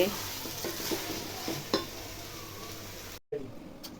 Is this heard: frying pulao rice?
yes